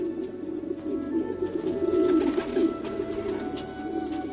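Pigeons coo softly and steadily while landing to peck at grain scattered beneath a trap, a low continuous burbling from several birds with no voices.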